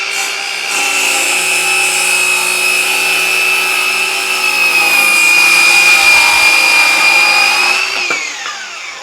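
A Craftsman V20 cordless power tool, an older model without an electric brake, runs with a loud steady high-pitched whine, then is switched off and winds down toward the end.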